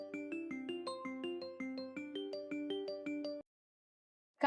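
A melodic mobile phone ringtone plays a repeating electronic tune of short stepped notes for about three and a half seconds, then cuts off into silence, heard clearly with no talking over it.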